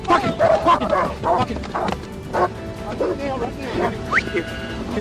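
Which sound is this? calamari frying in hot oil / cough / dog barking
dog barking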